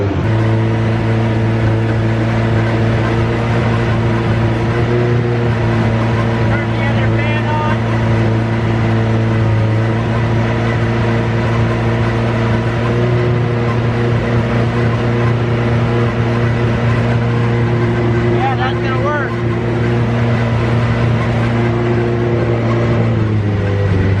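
A car engine idles steadily after starting, running on a bigger replacement alternator; a loud, constant low hum with a stable tone and no revving, continuous throughout.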